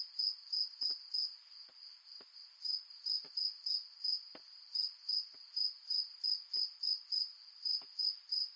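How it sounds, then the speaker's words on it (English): Crickets chirp in steady, evenly spaced pulses, a clear high trill repeating about twice a second, with a few faint clicks underneath and no voices. "That's supposed to be crickets. That sound like crickets?"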